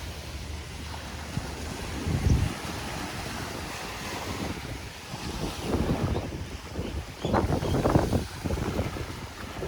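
Ocean surf at Queens Beach in Hawaii rolls and breaks at dusk. Several waves swell and crash at moderate distance over a constant wash, with wind buffeting the microphone and no talk.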